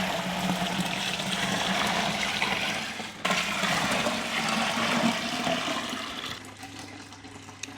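Water pours from a tap into a beer fermenter, topping up a Country Brewer mango pale ale wort to 22 litres, as a continuous loud gushing splash that briefly breaks, resumes, then shifts to a lower filling tone near the end.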